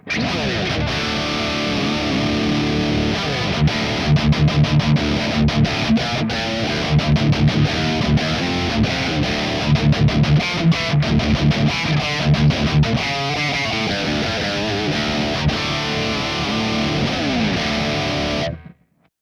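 A heavily distorted metal electric guitar, an Engl tone on a Kemper Profiler with a noise gate, chugs and rings through a dense riff, with abrupt cutoffs into silence between phrases and a clean stop at the end.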